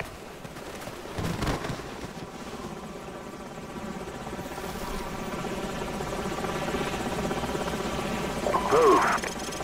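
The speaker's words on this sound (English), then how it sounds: "Enemy helicopters." Enemy helicopters in Call of Duty 4: Modern Warfare roar as a steady, dense rotor and engine rumble throughout, with a sharper burst near the end amid battlefield noise.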